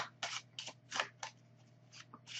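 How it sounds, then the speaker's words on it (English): A deck of playing cards shuffled by hand in a quiet room, heard as a run of short, crisp riffling bursts at an uneven rhythm, fairly faint and close. "I shuffle them one more time."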